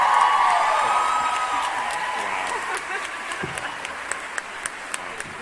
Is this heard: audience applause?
yes